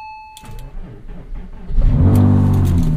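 A Porsche Boxster engine cranks briefly after a chime, then catches and settles into a loud, steady idle, heard up close.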